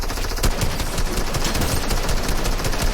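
Rapid gunfire from a video game, set as pistol shots, crackles continuously and loudly for the whole stretch in a dense stream of shots with no pauses and no voices.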